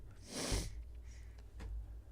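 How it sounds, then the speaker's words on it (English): One loud, close sniff followed by a couple of fainter breathy sniffs, otherwise quiet. "pardon my sniffing after those sneezes"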